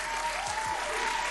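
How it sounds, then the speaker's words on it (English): A crowd claps continuously, dense steady applause filling the whole moment. "Applause for yourself."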